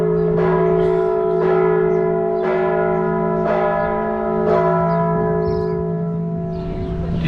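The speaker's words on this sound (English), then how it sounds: "When the bells ring, they pull that rope and then the bells ring." Church bells ringing in San Miguel de Allende, Mexico: a resonant bell struck about once a second, each strike blooming over a long sustained hum of overlapping tones, fairly loud and clear.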